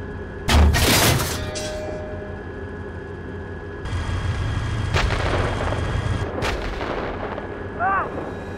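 Incoming fire in the Steel Beasts tank simulator: a loud artillery or cannon blast opens, followed by rumbling impacts, a sharp crack midway and further booms amid a constant engine drone.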